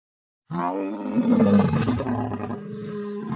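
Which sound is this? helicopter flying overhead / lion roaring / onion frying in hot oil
lion roaring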